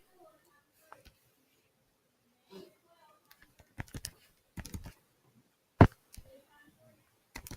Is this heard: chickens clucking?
no